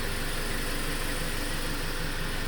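A Jeep Patriot's engine runs steadily at a near idle inside a garage, a constant mid-low drone while its 6-speed automatic F24 transmission is cycled through the gears.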